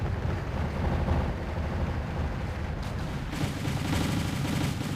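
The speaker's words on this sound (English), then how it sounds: "All my T-80s, my T-80Us opening fire." Soviet T-80U tanks open fire in a large Wargame: European Escalation battle, a dense, continuous barrage of overlapping gunshots, booms and explosions rumbling at a steady, moderately faint level with no pauses.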